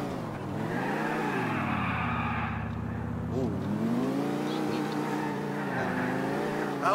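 A car engine in GTA IV hums steadily and rises and falls in pitch as the car speeds up and slows down during driving, a continuous smooth drone throughout.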